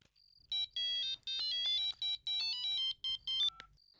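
A phone rings with a bright electronic ringtone, a fast trilling tune in repeated bursts with short gaps between them. It sounds clear and close in a quiet room, and no one talks over it.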